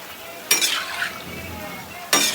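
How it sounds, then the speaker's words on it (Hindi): Gulab jamun frying in hot oil in a pan, with two sharp bursts of scraping as a spoon stirs them through the steady bubbling sizzle, close and fairly loud. "इसी तरह से आपको चलाते रहना है कि परफेक्ट कलर आप गुलाब जामुन तैयार करें।"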